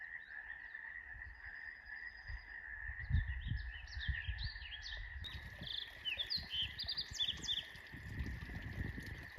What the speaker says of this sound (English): Sounds like a real situation with some frogs.